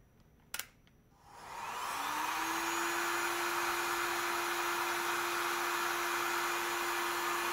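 A Parkside PHLGD 2000 C4 digital hot air gun switches on after a short click and settles into a steady, loud rushing blow at full airflow. Its motor whine holds constant for the rest of the stretch.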